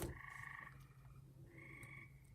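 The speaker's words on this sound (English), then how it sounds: "Can you guys hear all the frogs out in my backyard?" Frogs croak in a backyard chorus, a steady layered din of repeated calls that swells, dips briefly and rises again, moderately close and with no voices over it.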